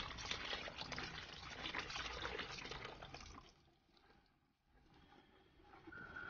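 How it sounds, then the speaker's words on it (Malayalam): Caustic soda mixture for homemade dish washing liquid poured into a container, a steady close liquid gush that fades out after a few seconds, then a softer trickle. "നമുക്ക് ആ കാസ്റ്റിക് സോഡയുടെ മിക്സ് ഈ പാത്രത്തിലേക്ക് ഒഴിച്ചു കൊടുക്കാം."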